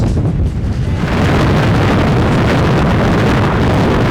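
Loud, roaring gale-force wind gusting to 36 buffets the microphone on a sailboat without a break, a heavy rumble with gusts on top, and no voices.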